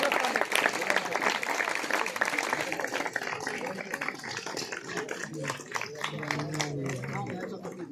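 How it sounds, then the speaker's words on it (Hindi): An audience claps at a school Sanskrit students' sports meet during a tug-of-war contest in Swargashram, Rishikesh. The applause is dense and continuous, with voices talking and shouting over it throughout. "ताली बजती रही भाई, ताली ताली बजती रही"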